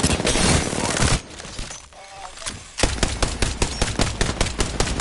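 Rapid gunfire from a shotgun in a video game, loud dense bursts of shots, a brief lull, then a quick string of sharp repeated blasts.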